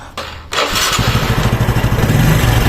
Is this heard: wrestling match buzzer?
no